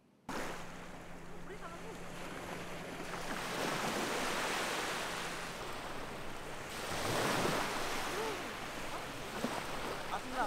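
Ocean waves crashing on the beach at Ciletuh Geopark, a broad rushing surf that swells and recedes in repeated surges, loudest near the end, with wind buffeting the microphone and a faint voice in places.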